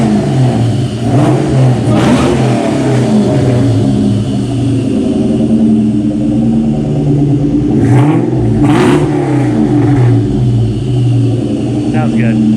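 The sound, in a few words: SVT Cobra car doing a burnout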